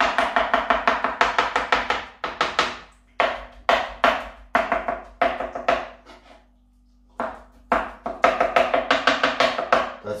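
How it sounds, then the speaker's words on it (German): Eggplant gets chopped hard with a knife on a cutting board, fast bursts of rapid, even strikes broken by brief pauses, close and loud, with no talking. "Erstmal schneiden und dann kommt das Hacken"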